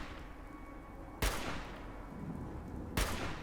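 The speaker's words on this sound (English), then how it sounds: "this guy just doesn't care that I'm shooting him" Two sharp gunshots in Fallout 4's Nuka World, nearly two seconds apart, each cracking loudly and trailing off in a long echoing decay over a quiet ambient bed.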